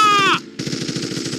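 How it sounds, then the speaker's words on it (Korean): Rapid automatic gunfire as a sound effect in a Korean audiobook of a mountain firefight, a fast, loud, evenly spaced burst of shots after a brief high tone, with no talking. "총소리와 함께 아래서 터지는 소리였다."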